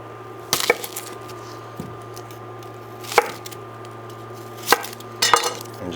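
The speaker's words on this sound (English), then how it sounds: "now we're gonna cut an onion into quarters as well" A knife cutting a white onion into quarters on a cutting board, several distinct close chops spaced a second or so apart over a faint steady hum.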